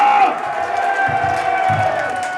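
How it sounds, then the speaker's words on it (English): Crowd at a Crowbar show at the Live With Full Force festival keeps cheering loudly, a steady roar of voices with a few heavier thumps and shouts rising out of the noise. "let's give yourself a little round of applause tonight"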